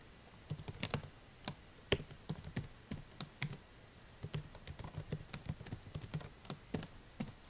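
Close, quick keystrokes clatter on a computer keyboard as simple PHP code is typed, in uneven bursts of tapping with short pauses between words.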